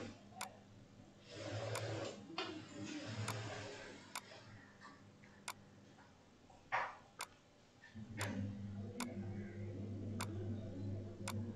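A stylus scratches and taps on a drawing tablet while painting hair strokes with a brush, producing soft, close, faint swishes punctuated by regular sharp clicks.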